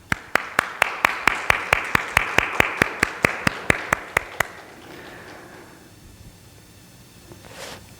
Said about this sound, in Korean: 우리 함께 환영의 박수 하시겠습니다